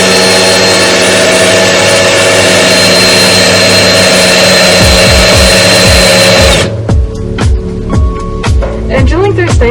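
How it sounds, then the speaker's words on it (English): A power drill bores through stainless steel for a 4WD drop-down table, a loud, harsh, steady high whine that cuts off abruptly, followed by quieter clatter and talk. "drilling through stainless steel is hard too"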